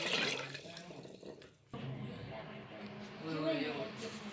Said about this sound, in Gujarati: એની અંદર આશરે 2 લીટર જેટલું પાણી નાખો